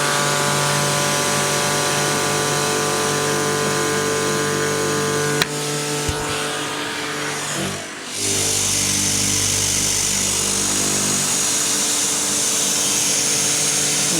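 Nilfisk P180 electric pressure washer running under load while its pressure is turned down, a loud steady motor and pump drone with a brief dip and change in tone partway through.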